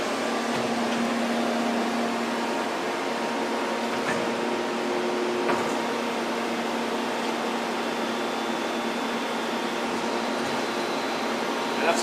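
A Sunnen SV 3 vertical two-stage honing machine runs a honing cycle at a slow spindle speed of 150 and a slow stroke, giving a loud, steady mechanical hum and whir with little change throughout.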